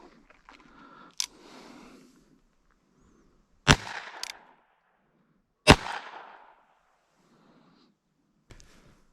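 Federal .22LR small game shotshells are fired from a gun at close range, giving two loud, sharp reports a couple of seconds apart, with quieter clicks and handling noise between them and a fainter pop near the end.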